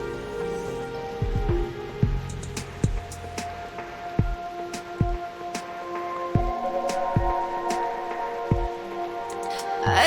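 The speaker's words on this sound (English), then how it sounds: "The rain is making too much noise." Steady rain in a video game, Reverse: 1999, patters over a low, droning background, with scattered heavier drips and thumps landing irregularly throughout.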